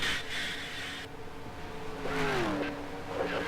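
A race car sweeps past in NR2003 during a recreation of a 1965 Daytona race, its engine whine rising then bending downward as it overtakes, heard over steady engine drone from the player's own car.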